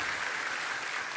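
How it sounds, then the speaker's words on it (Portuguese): Brief applause for a nun on a Catholic evangelization TV show, a soft, even patter of many hands clapping at a distance, without speech. "Uma salva de palmas a ela."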